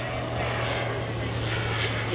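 A Piper Super Cub flying at a STOL competition, running a lower-horsepower loaner engine, a steady propeller drone that holds unbroken throughout.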